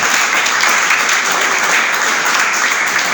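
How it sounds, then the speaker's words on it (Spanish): A church congregation gives loud, dense applause during a Spanish-language sermon, an even, unbroken wash of clapping close and full throughout. "¿Cuánto da un aplauso al Señor?"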